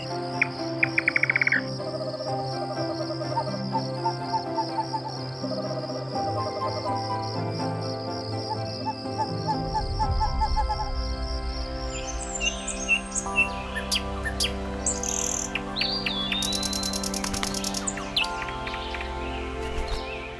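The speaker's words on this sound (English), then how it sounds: "One such bird is the Indian nightjar." An Indian nightjar calling after dark: repeated rhythmic chirping bird calls mixed with a dense bed of insect and cricket trills, steady and moderately loud, with other birdsong joining later and no voices.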